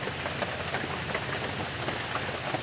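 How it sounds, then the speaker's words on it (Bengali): Steady rain hisses without a break, a dense, even patter with no voices over it. "বৃষ্টি বাড়ছে"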